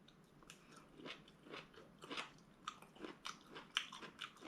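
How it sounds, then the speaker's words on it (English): Crisp bites and chewing of crunchy cucumber in a scrambled egg dish, a steady series of close, moist crunches repeating roughly every half second, fairly quiet with no talk. "The cucumber is still crunchy"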